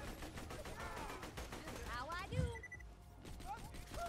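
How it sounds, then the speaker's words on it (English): Rapid gunfire from a heavy-recoil gun in the video game Borderlands 2, a dense string of repeated sharp shots with a bigger thump midway, while players talk over the action. "this gun has a hell of a recoil"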